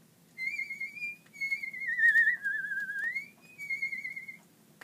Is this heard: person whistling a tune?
yes